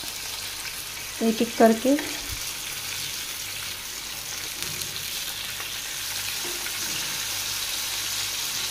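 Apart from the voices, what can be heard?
kebabs frying in oil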